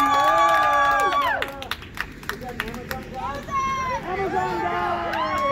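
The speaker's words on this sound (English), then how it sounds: "Please put your hands together" A party crowd at a birthday celebration claps and whoops for a performer introduced as a doorstep magician. Cheers and scattered applause come up close, mixed with chatter and shouted voices, and rise again toward the end.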